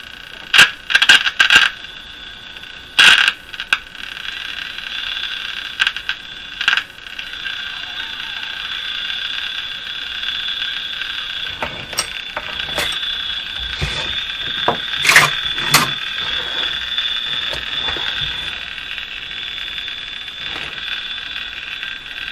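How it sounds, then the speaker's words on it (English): A Crosley G-165 five-tube radio crackles as its antenna is moved: scattered sharp clicks and pops, some in quick bursts, over a steady thin whine that holds through most of the stretch. "You can hear the antenna waving."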